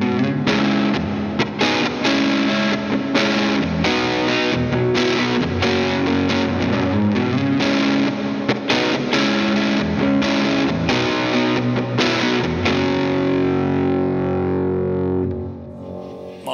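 Electric guitar through a TC Electronic Spark Booster pedal with the gain turned fully up, playing a loud, continuous overdriven passage of sustained chords and notes alone, with no talk, ringing out near the end.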